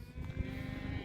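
Sheep bleat in a large flock of about 160 penned near a bull herd, overlapping calls in a dense low murmur throughout.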